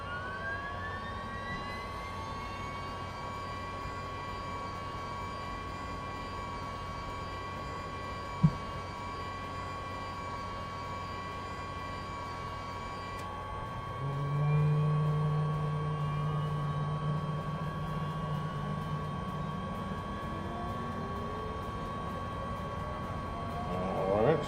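V-22 Osprey engine starting up in Microsoft Flight Simulator 2024, a steady whining turbine tone with a sharp click partway through, then a low droning rumble swelling in as the engine spools up, heard fairly quietly.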